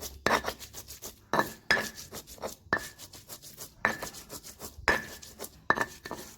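A stone mortar and pestle (ulekan) grinding young bamboo shoot ingredients, heard as sharp rhythmic strikes and rasping rubs about once a second, close but quiet, with no talk.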